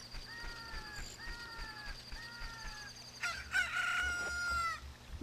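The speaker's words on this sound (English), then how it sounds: "it's a fucking chicken now" A cucco chicken in The Legend of Zelda: Ocarina of Time clucks and crows in several repeated calls, close and clear over quiet game background sound, building to a louder burst near the end.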